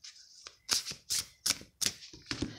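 A tarot card deck is shuffled close up in a quiet room, making five or six crisp, papery riffling bursts in a quick, even rhythm with short pauses between them.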